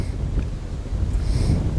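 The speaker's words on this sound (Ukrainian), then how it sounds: "стрічний вітер дуже сильний" Strong headwind buffets the microphone with a continuous low rumble and gusting roar, steady and close throughout, with no talking, during summer feeder fishing.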